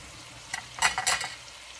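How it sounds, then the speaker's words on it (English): Meat and vegetables stirred in a frying pan with garlic, a few quick scraping and sizzling bursts of the spatula, close and moderately quiet against a soft background hiss. "And mix the meat with the vegetables."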